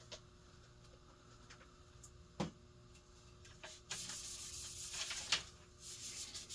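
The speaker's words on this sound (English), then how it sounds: "Polishing the blades of the last Emerson while that one's spinning down" Blades of a brown plastic Emerson Designer Series ceiling fan, model CF-2052-1, are rubbed with a polishing cloth, giving faint scattered swishes and rubbing strokes that grow busier and louder toward the end against a quiet room.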